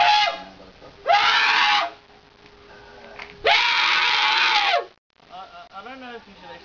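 A person screams loudly outdoors in a quiet neighbourhood, two long sustained shrieks separated by a pause, then a shorter wavering vocal cry near the mic.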